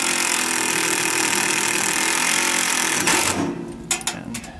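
A power drill whines steadily as it drives a self-tapping screw into a metal fan mount on a mini excavator, the high buzz running for about three seconds before cutting off into a few clicks and knocks.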